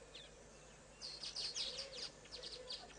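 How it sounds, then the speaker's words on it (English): Sharp, harsh calls of a grey go-away bird repeat in quick bursts at a moderate distance, rising and falling over the second half, with no voices present. "Just heard a grey go-away bird sounding a little irritated."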